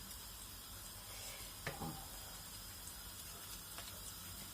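Quiet, steady sizzling of potato pancakes frying in oil, with a faint crackle and a brief scrape partway through, no voices.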